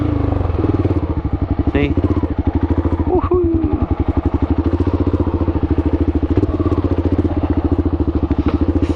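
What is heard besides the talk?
Kawasaki KLR650 motorcycle climbing a hill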